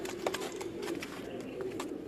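Pigeons belonging to a Lahore pigeon keeper's late mentor coo low and continuously up close, amid light rustling and a few soft clicks, with no clear speech.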